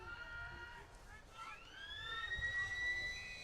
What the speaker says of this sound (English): the siren sounds to end a very entertaining opening half here at City Oval